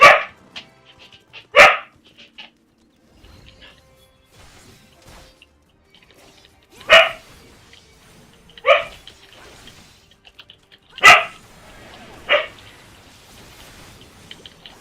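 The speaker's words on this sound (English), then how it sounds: "She likes to bark. She likes to be heard." A small brown dog barks in short sharp bursts, about six separate barks spaced irregularly with quiet gaps between, close and fairly loud with no one talking.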